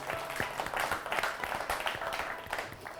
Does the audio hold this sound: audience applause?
yes